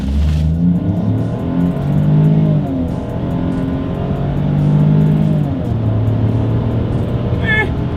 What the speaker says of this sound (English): let's do a quick little acceleration test here in our Bronco Sport